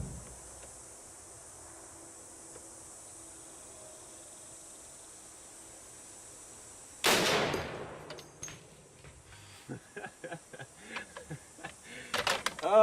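A Barrett .50 BMG fires a steel-core round at a lock, a single loud, sharp blast followed by a decaying report, then scattered clicks and rustles over a steady insect-like hiss outdoors.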